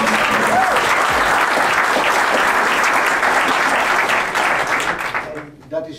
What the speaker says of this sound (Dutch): maak een hartelijk applaus voor Carina